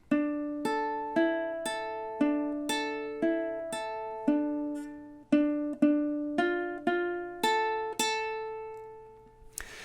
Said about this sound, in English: And now those first 2 measures together sound something like this in time.